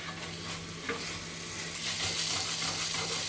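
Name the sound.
sautéing a Kashmiri green chicken curry masala in oil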